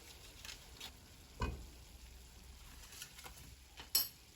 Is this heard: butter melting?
yes